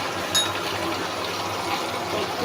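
Soy sauce poured into a hot cooking pan over seasoned, sautéed spices for a chicken vegetable dish, a steady close liquid rush and sizzle with a brief bright splash near the start.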